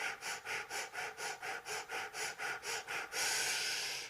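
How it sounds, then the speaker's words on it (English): Rhythmic fire-breath breathing exercise, about a dozen quick, forceful breaths in a steady pulse, ending in a longer sustained exhale, close and clear with no talking. "One more fire breath."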